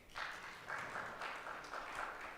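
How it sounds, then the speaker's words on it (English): An audience in a church sanctuary applauds, a soft, distant wash of clapping that swells and eases in waves. "Let's give her a round of applause as she comes"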